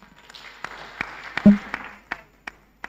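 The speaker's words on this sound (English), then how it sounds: "I think the clapping also signifies palatability with the response" Sparse clapping at a digital health and innovation exhibition in Tanzania, a handful of distinct claps spaced irregularly over a few seconds rather than full applause, fairly close, with faint murmuring in the background.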